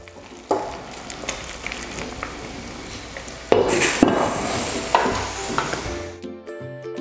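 Pork tenderloin and kidney being stirred in a pan for pork igado, with steady frying sizzle, scraping utensil strokes and clinks against the pan at intervals, close and moderately loud, no talking.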